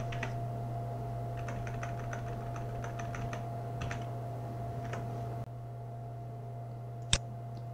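An IP address typed on a computer keyboard at a Linux command line, with rapid quiet key clicks in bursts over a steady electrical hum and one sharper click near the end.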